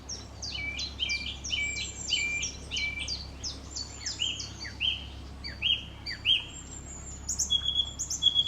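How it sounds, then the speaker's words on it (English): A bird above a canal towpath gives rapid electronic-sounding chirps and warbling whistles that resemble a robot's beeps, clear and fairly close over a low steady hum. "You hear this bird up here? Sounds like R2-D2."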